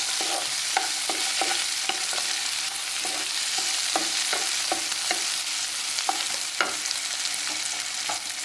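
Grated coconut sautéed in a pan for chutney, a steady close sizzle of frying with repeated light spatula scrapes and taps throughout, no voices.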